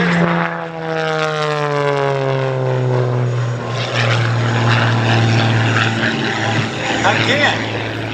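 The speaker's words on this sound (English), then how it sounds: "Give you a great look at this high-performance MXS-RH aerobatic airplane." An MXS-RH high-performance aerobatic airplane flying at the Columbus air show, its propeller engine droning loudly with pitch sliding downward as it passes, under constant crowd and wind noise.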